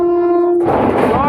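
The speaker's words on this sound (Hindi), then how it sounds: "और अमृत WV5 के साथ आ रही है नॉर्थ ईस्ट एक्सप्रेस।" The North East Express arrives behind a WAP-5 electric locomotive, sounding a loud, steady horn blast that cuts off and gives way to a close, rumbling roar of the train passing.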